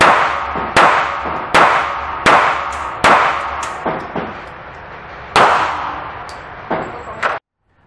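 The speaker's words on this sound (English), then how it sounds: "Beretta Nano 9mm" Beretta Nano 9mm pistol fired outdoors with an extended magazine, about ten sharp, loud shots in an uneven rhythm, each followed by a short ringing decay, with the last shot cut off abruptly.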